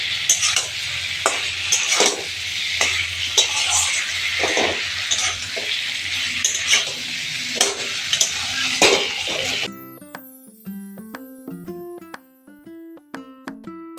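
Fried egg and potato sizzle in spiced masala in a pan, with close stirring scrapes and clinks at a busy, uneven pace, before music takes over for the final few seconds.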